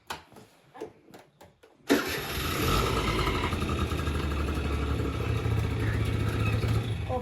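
A 1998 Honda SFX Repsol scooter, rebuilt with a new crankshaft, bearing, piston and cylinder, takes a few quiet kicks before its engine catches loudly and settles into a steady, close, buzzing idle.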